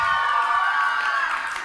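An audience cheers and shouts at an Azerbaijani talent festival, a loud, sustained, high-pitched crowd roar that holds steady throughout and fades slightly at the end.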